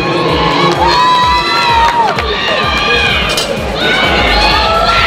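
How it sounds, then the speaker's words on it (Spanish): Loud crowd cheering, whooping and shouting fills a bodybuilding contest hall as semifinalists are presented at the Miss & Mister Peru 2023 senior 90 kg event, a dense continuous roar with high voices rising above it. "Fuerte el aplauso"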